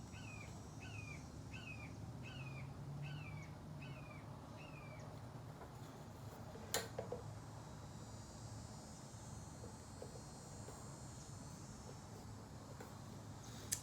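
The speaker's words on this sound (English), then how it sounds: "I love sitting out here. You hear the birds." Outdoors, a small bird repeats a short chirping call about eight times at an even pace, fairly faint over a low steady background hum, followed by a single sharp knock and quieter ambience.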